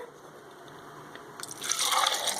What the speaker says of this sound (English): For this recipe, you'll need 3 cups of water